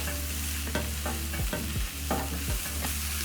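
A utensil scrapes and pushes sausages around a hot frying pan, several short rhythmic strokes over a continuous sizzle, close and loud.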